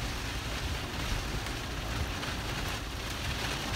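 Heavy rain pours down in a steady, dense hiss during a safari game drive at Savuti in Chobe National Park, Botswana, with no voices present.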